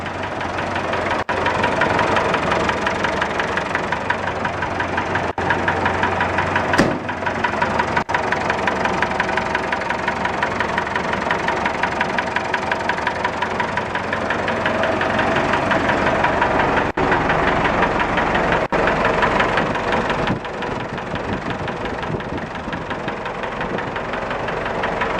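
An IMT tractor engine idling close by after a cold start, a steady, loud, knocking chug that runs unbroken from start to end.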